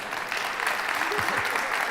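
Crowd applause at the Flint mayor's 2024 State of the City address, a sustained, even roar of many people clapping in a large hall, with a faint voice briefly audible underneath.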